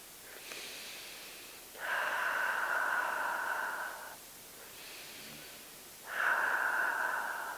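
Slow, deep breaths through the nose during a yoga pose on a reformer, two long airy exhales separated by quieter inhales, close and fairly soft with no talking.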